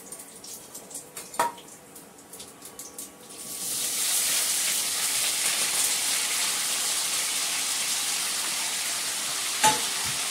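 Cauliflower dropped into hot oil seasoned with cumin seeds and asafoetida, a few clinks and stirs first, then a loud, steady sizzle that swells and holds, with a brief metallic knock near the end.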